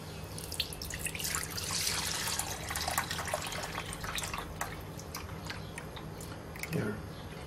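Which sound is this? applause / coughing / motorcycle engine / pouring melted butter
pouring melted butter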